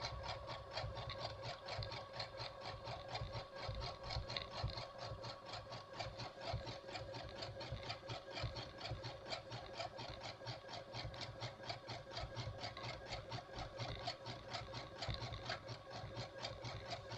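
A sewing machine running steadily and continuously, stitching the seams of a non-paper cloth towel, with a fast, even mechanical whirr and rattle and no pauses.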